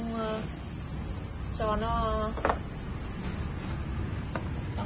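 Crickets at a cricket farm keep up a dense, high continuous chirring, with a few nearer pulsed chirps standing out and a brief spoken word in the background.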